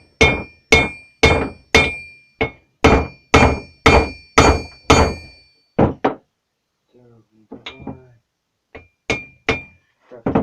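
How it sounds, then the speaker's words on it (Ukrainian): A small hammer strikes the metal edge of a chisel's tube in a quick, even series of sharp knocks, pauses while a voice mutters quietly, then resumes with a few more blows. "взяти менший молоточок, я може по краю буду бити і воно піде"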